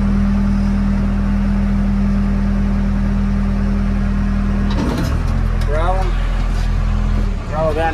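A Case 580 L 4x4 backhoe loader engine runs with a steady drone, then revs up and changes pitch partway through as clanks and whines cut in, loud and close.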